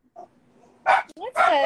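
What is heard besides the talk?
French bulldog barking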